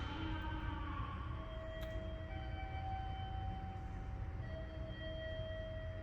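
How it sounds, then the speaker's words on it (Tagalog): A subway station in Japan, heard while waiting for a train: quiet ambience with faint, sustained tonal whines and hums from distant trains and equipment. "I'm here in the subway, waiting for a train."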